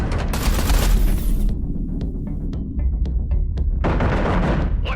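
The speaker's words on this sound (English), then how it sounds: "Eduardo, concentrate artillery fire on Blakemore's carrier." Artillery fire in a science-fiction space battle cutscene of the game Everspace 2 arrives as a dense barrage of booming blasts, then a run of sharp separate shots, then a further loud volley, all close and heavy.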